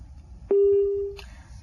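Telephone line busy tone after a caller's line drops during a live TV phone-in: one steady, clean electronic beep lasting about half a second over faint low background hum, then a brief clatter.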